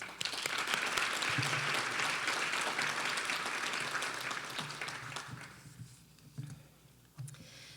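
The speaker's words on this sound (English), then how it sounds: "I'd like to just give another round of applause to all of our wonderful speakers who have shared their incredible stories." An audience at a fundraising breakfast applauds its speakers, a sustained round of clapping that holds steady for several seconds, then thins out to a few scattered claps and fades.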